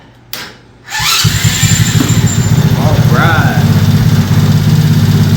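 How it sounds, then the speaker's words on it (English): A 125cc gas engine on a converted golf cart cranks and fires up after a short pause, then settles into a loud, steady, rapid idle with a close mechanical chatter; someone speaks briefly just before it starts. "now we're going to fire this thing up and see if it can run"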